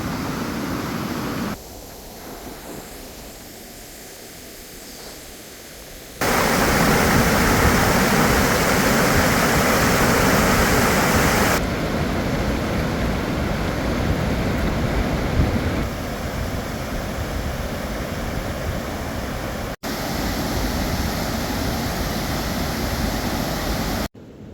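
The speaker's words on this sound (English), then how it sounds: "A lot of water coming out of Cedar Creek." A spring waterfall on Cedar Creek in Cleburne State Park sends water rushing in a loud, steady, broadband roar that shifts in level as the listening position changes, with no voices.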